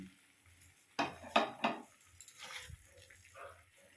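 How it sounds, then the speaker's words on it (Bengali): Paneer being stirred into spiced masala in a pan, a few sharp spoon scrapes and knocks against the pan over a faint sizzle. "পনিরটাকে এবার কিছুক্ষণ নাড়াচাড়া করে নেব, যাতে পনিরের মধ্যে ঠিকঠাক লবণ আর মশলাগুলো ঢুকতে পারে।"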